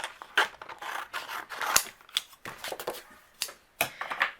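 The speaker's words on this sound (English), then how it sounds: "I'm going to use my scissors. Let's trim down a piece here." Scissors trim a piece of synthetic glitter cardstock with a series of crisp snips and short slicing rasps in an irregular rhythm. The cutting sounds close and fairly quiet, with no talk.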